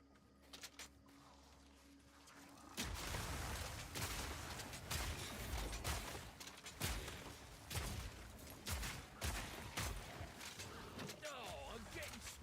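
Rapid crossbow bolts firing in Path of Exile 2 combat, a dense string of sharp snaps and impacts over busy game sound, with a person talking over it.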